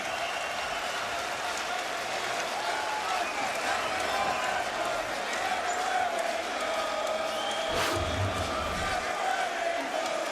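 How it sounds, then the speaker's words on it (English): Boxing crowd on its feet cheering during a Leo Santa Cruz vs Carl Frampton world title fight, a steady roar of applause and shouts filling the arena, with a commentator talking over it. "The crowd on its feet, as they should be."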